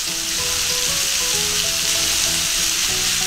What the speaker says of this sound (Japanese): ひき肉に火が通りましたらお野菜を入れていきます。